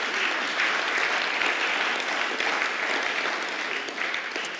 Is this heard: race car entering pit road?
no